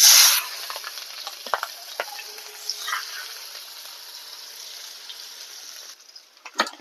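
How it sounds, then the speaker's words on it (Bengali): Cumin seeds and sliced onion dropped into hot oil left from frying fish, a loud burst of sizzling at the start that settles into a softer steady crackle with a few stirring scrapes. "আমি ওই তেলেই দিয়ে দেবো সামান্য জিরে আর দেবো অল্প পেঁয়াজ"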